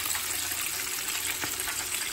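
Chicken pieces fry in a pan of hot oil, giving a steady, dense sizzle with crackling throughout and one brief louder pop midway, close up with no talking.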